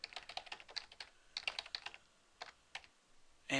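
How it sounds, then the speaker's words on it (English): Fast, irregular typing on a computer keyboard in a quiet room, bursts of close, crisp key clicks with short pauses between them. "My typing skills are leaving something to be desired today."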